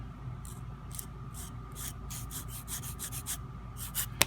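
Sanding the top of a thin plastic part for a 1/35 Ironside Models German freight car, pinched in flat-edge tweezers: repeated short abrasive rubbing strokes, close and fairly quiet, with an irregular rhythm that quickens toward the end.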